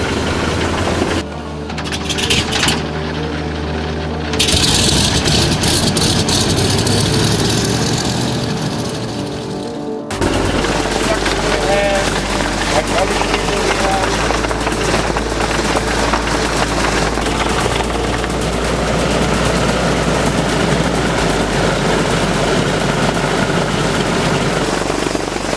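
Radial piston engines of a Douglas DC-3 Dakota airliner crank, sputter and catch, then settle into a loud, continuous roaring drone with rattling texture, shifting in intensity as a second engine joins and runs steadily.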